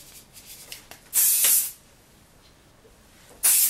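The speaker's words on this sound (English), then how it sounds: "And then you use some hairspray." Hairspray from an aerosol can is misted onto a styled high bun in two short, sharp hissing bursts, the second at the very end, with quiet pauses between.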